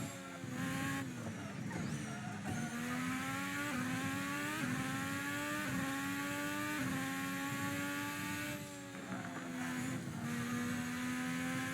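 A Formula 1 car in a racing video game circuit at Adelaide, its engine screaming at high revs, climbing through gears with brief dips at upshifts, loud and continuous with tire noise under it.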